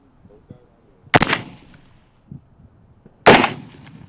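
Two loud rifle shots ring out a couple of seconds apart during long-range shooting at 800 metres, each with a brief echoing tail, amid faint background sounds.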